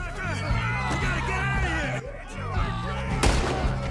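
Gunfire in the video game Red Dead Redemption 2: a few loud cracks and booms inside a busy game scene with shouting voices and crowd noise, and one sharp blast near the end.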